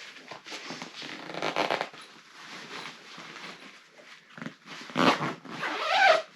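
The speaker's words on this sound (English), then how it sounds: "Zip it up." A zipper drawn closed on a winter camping sleep duffel bag, several quick rasping pulls in uneven bursts with rustling fabric between them, close and fairly loud.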